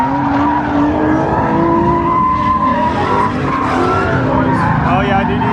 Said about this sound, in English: Got the burnout section right here, y'all. They drifting and having fun, y'all.